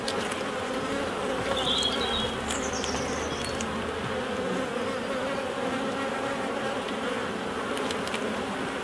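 Honeybees at a hive in the UK, a steady close droning buzz that runs throughout with no talking.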